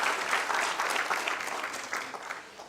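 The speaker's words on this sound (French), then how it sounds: "je vous demande de l'applaudir très fort" Audience applause at an official project closing ceremony, a full, steady wash of many hands clapping throughout, slightly swelling and fading.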